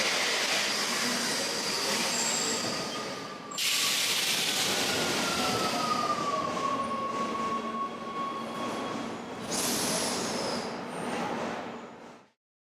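A train rumbles into a station in Rome with loud, continuous rail noise, a long metallic screech of wheels and brakes, then the roar fades as it comes to a stop.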